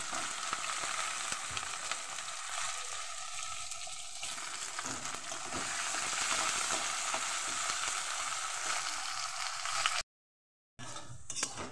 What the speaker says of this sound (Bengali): আমি কড়াতে তেল দিয়ে তার মধ্যে জিরে তেজপাতা দিয়ে তারপরে আমি আলুটাকে বেশ করে ভেজে নিলাম